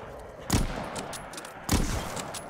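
Two loud, sharp sniper rifle shots about a second apart in a COD Zombies video game, each a broadband blast with a short decaying tail over quiet background.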